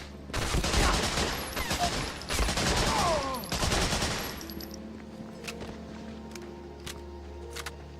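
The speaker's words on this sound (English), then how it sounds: "Guy took like 3 sniper shots to the head" Sniper rifle shots and surrounding gunfire in the PS2 game Medal of Honor Frontline: several loud, heavy bursts over the first four seconds, then quieter scattered sounds and a low background hum.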